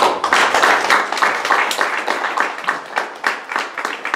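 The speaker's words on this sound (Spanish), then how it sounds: "Nosotros vamos a aplaudir a la Casa de Asturias." Audience applauding a Casa de Asturias delegation at a panel discussion, a steady mass of overlapping claps, fairly loud and continuous throughout, with no talk over it.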